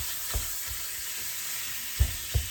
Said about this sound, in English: cook my meat over here in this pan